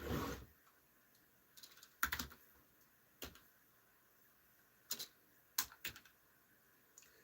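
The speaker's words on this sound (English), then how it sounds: "Let me type it in there." Faint, sparse typing on a computer keyboard in a quiet room, short bursts of clicking keystrokes spaced out over several seconds with soft pauses between.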